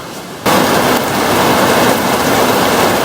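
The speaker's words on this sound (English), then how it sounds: "it is pouring, it is thundering, it is lightning" Heavy pouring rain with rumbling thunder during a storm, a loud dense wash that bursts in abruptly after a quiet moment and then roars steadily to the end, with no voices.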